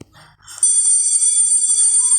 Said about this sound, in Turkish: ay kapatın şu alarmı be.